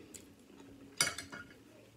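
A big spoon clinking against a dish while eating orange chicken, white rice and broccoli, one sharp close clink followed by a few softer scrapes against a quiet background.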